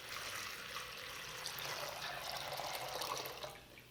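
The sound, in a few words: water with flower food poured into a pumpkin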